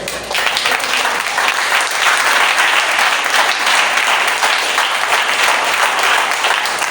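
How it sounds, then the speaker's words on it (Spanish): Church congregation bursts into loud, close, enthusiastic applause during a service, a thick continuous wall of clapping that stays strong for several seconds. "Un fuerte aplauso al Rey."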